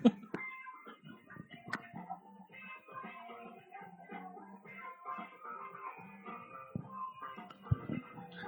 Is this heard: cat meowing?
yes